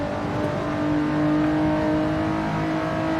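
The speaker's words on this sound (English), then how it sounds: "I really should not be dropping down the gears and taking it onto the rev limiter unless I want to destroy the engine." Lotus Exige S engine in the Assetto Corsa racing game, a steady high-revving whine with sustained harmonic tones, moderately loud and alone without talk for a few seconds.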